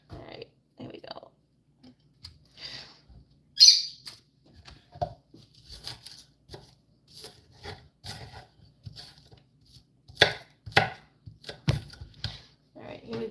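Onions are chopped with a knife on a board in a farm kitchen, giving irregular soft thuds and clicks spaced through the clip with quiet pauses between cuts.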